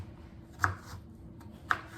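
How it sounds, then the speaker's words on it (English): A kitchen knife chops the ends off sweet potatoes on a cutting board, two crisp, close thuds about a second apart over a quiet room background. "These actually are chopping pretty easily. Seems like sweet potatoes are pretty hard to chop sometimes."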